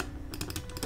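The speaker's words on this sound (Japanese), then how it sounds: "これはマジックマウスですか。マジックマウスの音が" Apple Magic Mouse buttons pressed several times in quick succession, crisp close clicks in a short burst with no talking.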